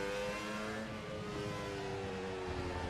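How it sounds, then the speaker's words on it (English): A Formula Pro racing car engine in rFactor 2 drones at a steady high pitch, fairly quiet and even, with a faint rising whine and no voices. "hear the roar of the car."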